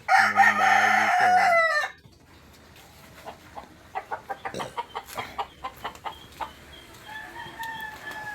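A gamefowl rooster from a bloodline flock in Cabanatuan City, Philippines, lets out one loud, close crow, then a quieter run of rhythmic clucks and scattered bird calls.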